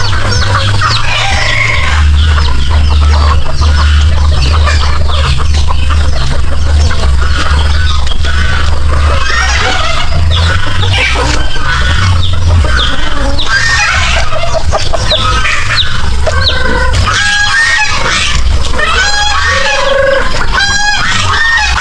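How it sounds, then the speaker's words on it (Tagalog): A flock of chickens clucks while being fed corn, steady clucking with a rooster crowing and goose-like honks over a constant low rumble, loud and close throughout. "Okay, ito na yung pakain sa manok."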